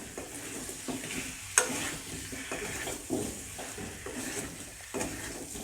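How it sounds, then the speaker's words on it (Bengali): Diced potatoes are stir-fried with masala in a pan for jackfruit curry, a low continuous sizzle broken by scraping spatula strokes and occasional louder clinks against the pan. "আলুটা মশলার সাথে কষিয়ে নিয়েছি,"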